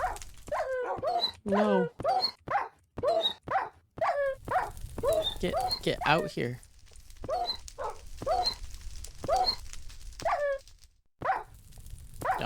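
A dog in a Minecraft game barks in sharp repeated yelps mixed with whimpers, a steady run of close, loud calls with short gaps, while someone talks over part of it.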